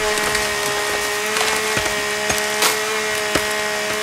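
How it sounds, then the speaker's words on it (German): A chainsaw in the survival video game The Forest cuts through wood, giving a steady engine drone with repeated splintering cracks and crunches as the blade bites, loud and close with no talking. "Ich habe mich doch tierisch gefreut auf die Kettensäge."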